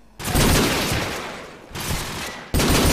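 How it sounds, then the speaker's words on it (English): Heavy gunfire from a firefight in a competitive shooter match in bottom B ruins, with dense overlapping bursts in two loud sustained volleys separated by a short lull, and a third burst erupting at the end. "In a heavy firefight with Froz."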